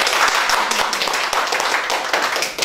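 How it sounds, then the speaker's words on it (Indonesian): An audience clapping for Paul at an Indonesian talk show, a dense, steady patter of many hands held at an even level for the whole stretch, with faint voices mixed in. "Boleh tepuk tangannya untuk Paul."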